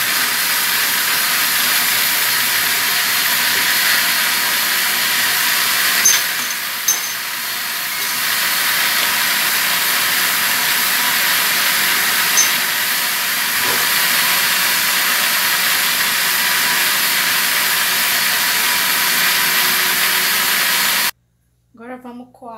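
A steady, loud whirring roar of a blender making juice, running continuously, with a brief pause in the middle and a short burst of speech at the end.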